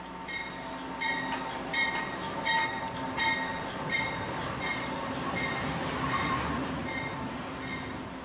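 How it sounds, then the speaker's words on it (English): A brand-new GE locomotive rolls past on railroad track, with a rhythmic run of wheel clicks over rail joints, a low rumble and a faint squeal, heard at moderate distance without voices. "A new GE in its first week on the road passes the flipped hopper."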